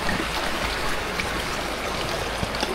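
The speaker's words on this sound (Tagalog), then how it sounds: "may narinig na akong tubig, agos ng tubig" A stream flows somewhere along a hillside trail, giving a steady, even rush of running water that fills the whole stretch without pause and sits fairly close, with no voices over it.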